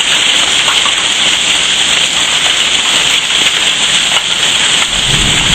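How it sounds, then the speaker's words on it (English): Hail pounding down steadily outside during a storm, a dense, continuous hiss-like roar of ice striking surfaces, loud and unbroken throughout with no voices. "Look at that hail."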